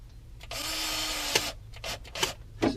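Drill driving a hose clamp tight on a sump pump pipe, with one sustained whirring run followed by several short, sharp bursts and clicks, close and fairly quiet.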